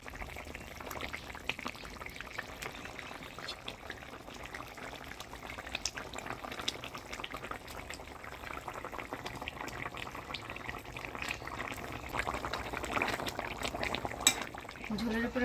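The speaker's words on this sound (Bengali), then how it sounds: "ঝোল জাল হয়ে গেছে, এবার ভাজি রাখা মাছগুলো দিয়ে দেবো।" Bengali-style hilsa curry gravy with eggplant boils steadily in a pot as fried hilsa pieces go in, giving a continuous bubbling, liquid wash with soft splashes.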